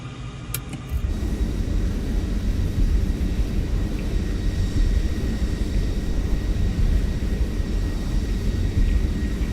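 An F-14 Tomcat taxiing in Microsoft Flight Simulator, its jet engines producing a steady, loud roar that holds at an even level throughout, with a brief click at the very start.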